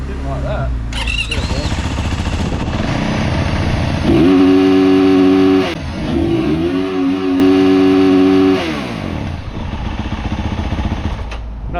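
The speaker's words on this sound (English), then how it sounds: "Nothing quite like a rev limiter for a cold motor" A cold Yamaha WR450F engine revs hard and bounces off its rev limiter, loud and close, with repeated high-pitched rising pulls and a blatting idle, while people talk over it.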